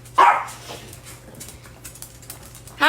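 Senior dogs at a dog sanctuary bark during morning play: a loud close bark opens, followed by fainter scattered yips and barks, then another loud bark right at the end, with no talking.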